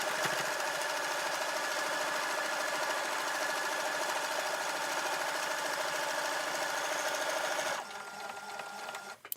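A sewing machine runs steadily, stitching round a drawstring bunny gift bag in one continuous loud mechanical whir for about eight seconds, then stops abruptly, leaving a quiet room with faint handling sounds.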